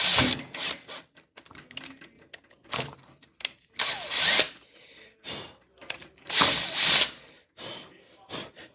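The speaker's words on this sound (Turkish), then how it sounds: "Hemen şuradan bir delik açacağız" A drill boring a lubrication hole into the heater fan motor of a Renault 9 Broadway, heard as several loud bursts of high-pitched whirring with short pauses between them, close up and without speech.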